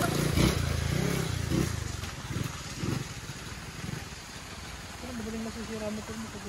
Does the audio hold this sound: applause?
no